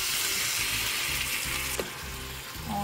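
Water poured into a hot pan of seasoned food, sizzling and hissing steadily with a soft bubbling undertone, heard up close and alone.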